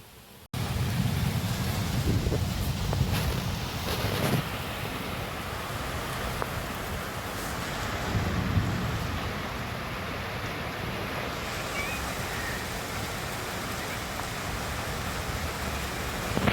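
Heavy rain pours steadily and loudly and keeps up without a break, with a low rumble that fits thunder swelling near the start and again midway; no voices.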